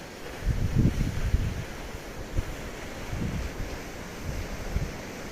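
Waves and surf at the Capo Nieddu coastline in Sardinia, where a waterfall drops straight into the sea, with a steady wash of water and wind rumble and a few stronger surges.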